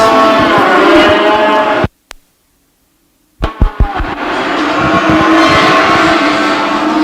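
Cattle in the sale ring at a fall fair commercial cattle show give loud, close moos that drop into a brief silence, then resume with several thumps and more lowing.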